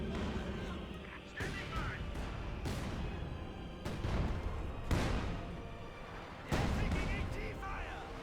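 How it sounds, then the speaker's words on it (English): Mortar half-tracks firing in Company of Heroes 2 land five heavy, sharp impacts spaced a second or two apart over a rumbling battlefield bed, with commentators talking between the blasts. "those mortar half-tracks getting some good hits there"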